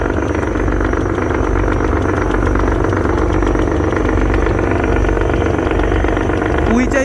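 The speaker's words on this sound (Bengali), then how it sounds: "উইচাই 550 ইঞ্জিন দিয়ে ভালো পরিমাণে প্রপেলার থ্রাস্ট উঠাচ্ছে এই এমভি ইয়াদ" A passenger launch, the MV Yad, running on its Weichai 550 engine pushes hard on the river, a loud continuous engine drone and hull roar filling the whole stretch without a break.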